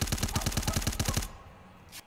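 Rapid automatic gunfire from a competitive video game match, a fast regular burst of loud shots lasting over a second, then cutting off to a quiet background with one faint later click.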